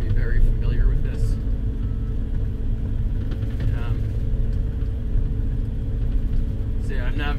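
ALLTRACK AT-20HD compact track loader rumbling steadily as it drives around a parking lot, a low continuous engine drone close by with occasional faint higher sounds.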